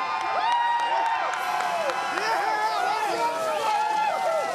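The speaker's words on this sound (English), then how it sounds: "he does so to the applause of the assembled here" A race crowd at an IndyCar oval cheers and applauds as the winning driver climbs out of his car, a sustained wash of cheering with whistles and shouts while a commentator talks over it.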